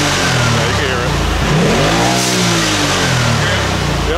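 A 2020 Polaris RZR Turbo fitted with an aftermarket blow-off valve revs up close by in a driveway, the engine pitch climbing and falling in a loud surge, with voices talking over it.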